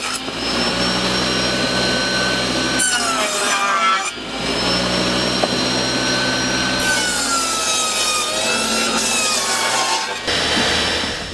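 A saw blade cuts the top off a cedar box in a woodshop, a loud grinding whine in several passes with brief pauses, over a steady vacuum hum.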